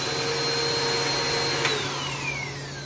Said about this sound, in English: it deserves to be vacuumed up by my vacuum cleaner or by my mom's vacuum cleaner.